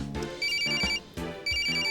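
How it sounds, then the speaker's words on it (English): A phone in Apollo Justice: Ace Attorney rings with bright electronic trills in two quick bursts separated by a brief gap, loud and clear. "His phone's ringing."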